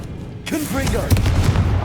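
A Confringo spell blast in Hogwarts Legacy lands as a sudden booming burst of low rumble and crackle, loud and close, with a voice shouting over it.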